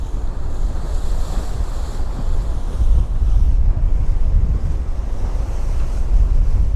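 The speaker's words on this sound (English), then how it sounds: "A little bit breezy now, a bit of a cooler breeze, but still not bad." Aboard the Manly Ferry near the entrance to Sydney Harbour, a cool breeze buffets the microphone over a steady wash of waves against the hull. The rumble is loud and continuous, with no voices.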